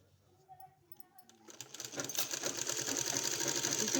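An electric sewing machine stitches a kurti hem, starting after soft handling sounds and building into a fast, steady rattling whir that grows louder toward the end.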